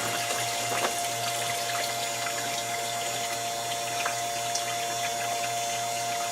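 Small pump pushing water through a homemade filter, a steady low electric hum with a constant tonal whine and faint trickling water on top.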